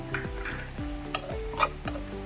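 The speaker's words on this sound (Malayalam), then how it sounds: "ഇനി ഒരു രണ്ട് സ്പൂൺ മല്ലി പച്ചമല്ലി അതും ഇതുപോലെ തന്നെ വറുത്തെടുക്കാം" Coriander seeds dry roasting on high heat in a pan for homemade sambar powder, giving a close rattling crackle with several scraping stir strokes and faint clinks of the pan across a short stretch, without speech.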